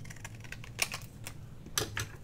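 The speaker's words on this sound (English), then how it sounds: "And then let's cut another piece here." Scissors snip through a scrap of junk-mail paper for a craft tag, giving a few sharp, close cuts separated by brief pauses, with no talk over them.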